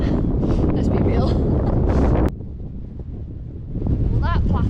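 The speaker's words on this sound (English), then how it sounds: "the wind was so loud it's totally wrecked it" Strong gusts on an exposed mountain ridge in Snowdonia batter the microphone with loud, roaring rumble, briefly dropping off mid-clip before buffeting again, with a voice faintly audible in the gusts.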